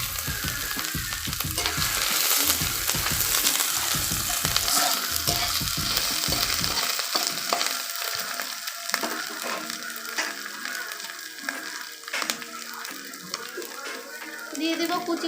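Grated ginger hits hot oil in a pan, a loud, close, crackling sizzle with stirring scrapes that settles into a steadier, thinner frying hiss; no talk.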